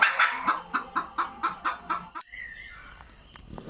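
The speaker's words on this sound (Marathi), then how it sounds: "बघा अंडे घालून निघाली" A village hen clucks in a steady rhythmic series of about nine loud, close calls just after laying an egg, then stops, leaving quieter background sounds.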